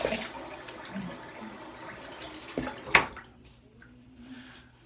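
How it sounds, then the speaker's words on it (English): A razor is rinsed under running water during a wet shave with Cade shaving soap. Quiet water trickles and splashes, with one brief louder splash near the end, then it goes nearly silent. "Let me rinse up here real quick."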